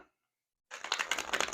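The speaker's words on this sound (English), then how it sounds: "Here's the last shuffle." After a moment of silence, a rapid riffle of cards flutters close by, a dense burst of crisp papery clicks.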